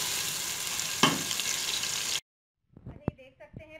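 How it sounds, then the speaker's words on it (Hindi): Chopped onions frying in a pan on the way to light brown give a dense, even sizzle for about two seconds, then cut off abruptly into silence, followed by a few brief voice-like sounds. "अब आप इसके अंदर अपनी ये ऑनियन ऐड कर देंगे, आपने इसको हल्का सा ब्राउन कर लेना है"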